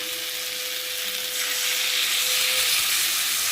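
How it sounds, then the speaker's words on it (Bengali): Mustard paste is stirred into eggplant and potatoes frying in a pan, giving a loud, steady sizzle that swells slightly partway through, close up, with no one talking. "সর্ষেটা দিয়ে একটু ভালো করে নেড়ে দেবো"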